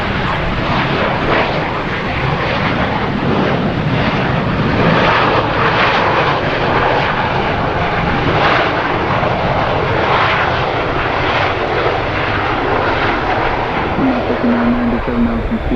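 Delta Boeing 717 jet engines at Harrisburg airport, a steady loud broadband roar that holds for the whole stretch with no break and no talk over it.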